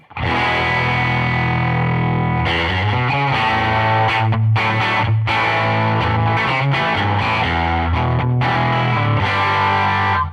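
Electric guitar played through a free distortion plugin with a dirty, spongy breakup: a sustained chord rings out, then loud gritty strummed chords and riffs follow, up close with no talking.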